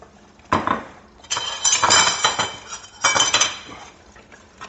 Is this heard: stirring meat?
yes